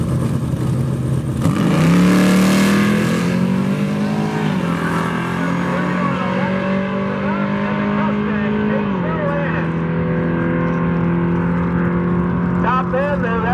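Malibu and Mustang race cars roar down a drag strip, a loud sustained engine drone with a rising pitch sweep early on, then a steady high-revving run that shifts down around the midpoint, with some voices underneath.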